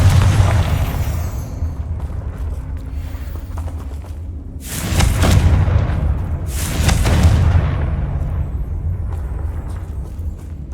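Confringo fire spell blasts in the video game Hogwarts Legacy: two loud, booming explosive bursts about two seconds apart, each with a sharp crack and a rumbling tail, over a low continuous game ambience.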